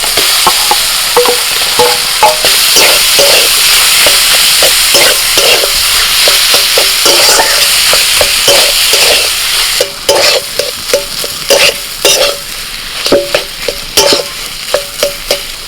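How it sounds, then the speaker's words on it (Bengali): Spices and ground cumin frying in a pan as boiled, broken-up potatoes are stirred in, a loud continuous sizzle with repeated scraping and tapping stirs that grow sharper and more rhythmic toward the end. "মশলাটা একটু ভাজা ভাজা করে নিয়ে দিয়ে দিচ্ছি সিদ্ধ করা আলু"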